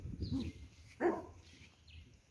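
A person in a group workshop imitates a dog's bark, giving two short, moderately loud vocal woofs about half a second apart, followed by faint background murmur.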